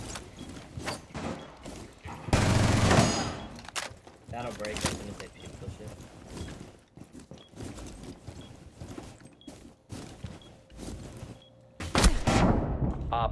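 Video game gunfire, sharp bursts and single shots scattered irregularly across the scene, with one loud burst and several quieter cracks, mixed with players talking throughout.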